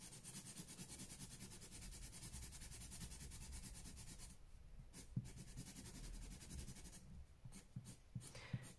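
Caran d'Ache Luminance colored pencil scratching steadily across paper, a close, continuous dry scraping with short gaps and a few soft taps near the end.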